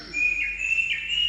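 A small bird chirps in a rural Rajasthani village during monsoon rain with a steady, clear call, and a faint higher tone wavers above it. No one speaks.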